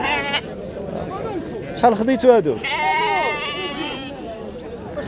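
Sheep bleat at an open-air sheep and goat livestock market, with a wavering cry rising in the middle and a longer bleat toward the end, close and clear over people bargaining and crowd chatter.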